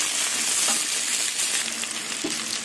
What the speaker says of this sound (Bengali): এবার পেঁয়াজ দিয়ে আলু দিয়ে ভেজে নেবো ভালো করে ঢেকে ঢেকে।